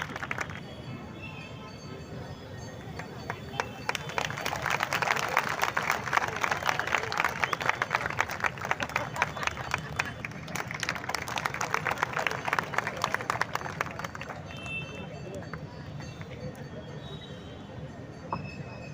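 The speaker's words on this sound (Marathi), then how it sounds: "जोरदार टाळ्या वाजवा" An audience at a public rally in Bhiwandi breaks into loud sustained applause that swells and then fades, with crowd noise underneath.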